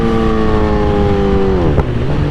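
A 2008 Suzuki GSX-R 1000 motorcycle engine runs after a fuel treatment, a loud close steady drone whose pitch drops as the revs fall back toward idle.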